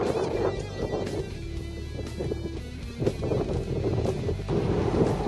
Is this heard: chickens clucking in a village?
no